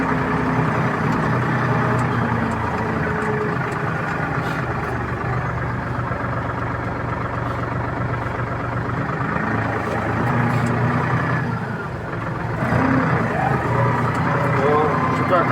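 A Solis RX50 tractor's engine drones loud and steady while pulling an Opel car out of mud, a close, continuous rumble with a brief dip and swell, and someone talks over it throughout.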